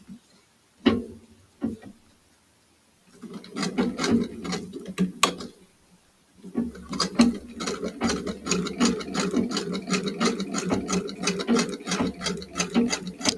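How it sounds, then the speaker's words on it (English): Sewing machine stitching in rapid, steady mechanical clatter, running in a short burst, pausing, then continuing in longer runs close by. "Phoenix, you just take a few minutes and sew"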